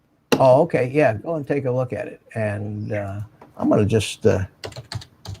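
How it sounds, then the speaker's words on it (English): Two-finger typing on a computer keyboard, with scattered key clicks sitting under near-continuous nearby talk from a man during a drone community livestream. "with my 2-finger typing skills"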